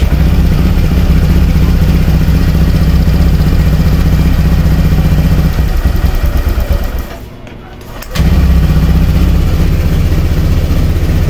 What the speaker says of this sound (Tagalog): Ayos, tahimik na yung makina mga boss